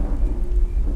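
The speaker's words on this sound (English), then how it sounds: "Oh, I hope the rain won't get worse." Steady rain with a low thunder rumble in the horror video game Silence Channel, a continuous dense wash holding even and fairly loud for the whole second, with no voices.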